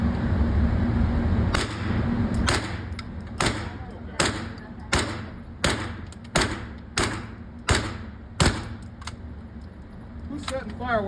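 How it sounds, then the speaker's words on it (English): An MP5K clone fitted with a suppressor fires heavy subsonic rounds, about ten sharp muffled cracks spaced roughly a second apart over a steady indoor range background, with people talking. "It's out of a MP5K clone, which is the MP5K with a suppressor on it."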